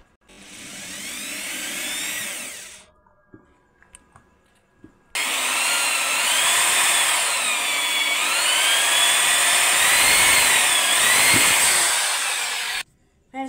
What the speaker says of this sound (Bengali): এটা আমি এবার ডিল মেশিনের সাহায্যে এবার এটাকে ফুটো করে নেবো।